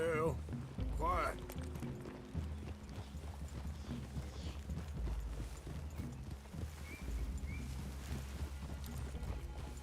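Horse hooves clip-clop steadily in a Red Dead Redemption 2 scene, moderately close under game music, with voices talking over them.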